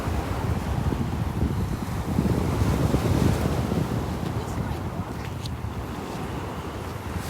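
Wind buffets the microphone with a constant rumble over the surf washing in on a flat, empty beach in North Naples, Florida, a steady roar with no pauses and no voices.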